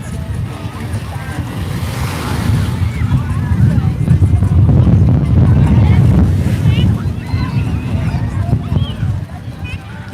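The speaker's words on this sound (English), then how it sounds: "here goes a wave. They're coming in." Ocean waves roll in at Waikiki Beach with a broad surging wash, loud and close, under strong wind buffeting and people talking nearby.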